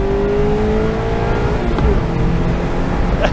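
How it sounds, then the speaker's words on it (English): A 2022 Mazda MX-5 Miata launches from about 2500 rpm for a quick 0 to 60 run, its engine note rising steadily through a loud, close, continuous pull with a brief gear-change dip, no talk. "Quick 0 to 60 in the MX-5."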